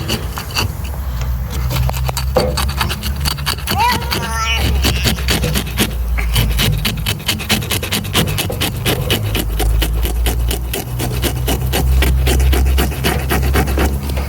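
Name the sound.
scraping scales off a steelhead salmon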